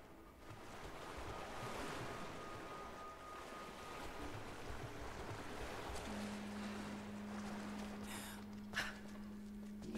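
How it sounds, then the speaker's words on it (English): Waves and lapping water in the Rise of the Tomb Raider video game, a steady washing surf with soft wind noise, a low sustained hum entering midway and a brief sharper splash near the end. "I didn't know there was water right here."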